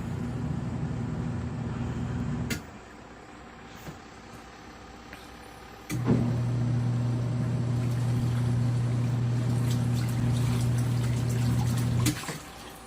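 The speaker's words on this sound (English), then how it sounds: "So this is a rinse cycle." Auertech portable twin tub washing machine running its rinse cycle on a king size comforter, a loud steady motor hum with sloshing water that cuts off briefly and restarts; no speech.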